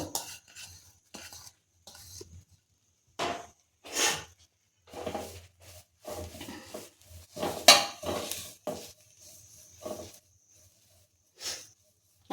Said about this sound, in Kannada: ಇದಕ್ಕೆ ನಾನು ನುಗ್ಗೆ ಸೊಪ್ಪು ಹಾಕ್ತಾ ಇದ್ದೀನಿ ಇದನ್ನು ಅಷ್ಟೇ ಸಣ್ಣ ಊರಿನಲ್ಲಿ ಹುರ್ಕೋಬೇಕು